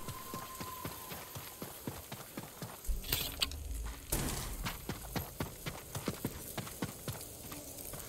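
A horse's hooves clip-clop in Ghost of Tsushima, a steady rhythmic trot heard close and clear, with a couple of louder rushing bursts midway.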